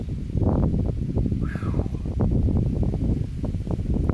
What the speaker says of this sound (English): Windy out here a little bit today.